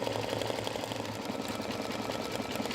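An embroidery machine stitches silk and satin fabric with a fast, steady mechanical whir and a rapid needle rattle that runs evenly throughout, close by and with no voices.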